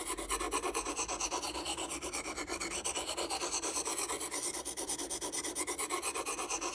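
A knife is sharpened by hand on a stone or steel, giving a continuous rhythmic rasping and scraping with regular back-and-forth strokes, close and fairly loud, with no talking.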